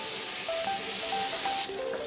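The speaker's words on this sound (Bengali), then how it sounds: "তো পটলগুলো দিয়েও আমি ভালো করে এগুলোকে ফ্রাই করব।" Pointed gourd pieces frying in a covered pan with potatoes, giving a dense continuous hiss with faint intermittent crackles, close and fairly loud, no voices.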